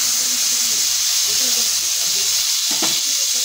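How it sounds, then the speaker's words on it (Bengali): Cumin seeds and chopped tomatoes sizzling in hot oil in a pan, a steady bright hiss throughout with faint crackles and a brief louder burst near the end. "তেলের মধ্যে একটু জিরে ফোড়ন দিলাম, টমেটো কুচিগুলো দিয়ে দিলাম"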